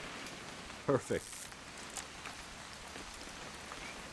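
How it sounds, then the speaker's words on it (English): Rain falls steadily in the video game What Remains of Edith Finch, a quiet soft hiss through the whole clip while a voice speaks a single brief word. "It's gonna rain the whole weekend, isn't it?"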